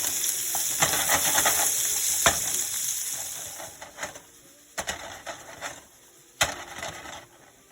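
Fresh breakfast sausage fries in a pan for a sausage biscuit and gravy casserole, giving a steady broad sizzle that thins out partway through, with sharp scraping stirs and clinks standing out near the end.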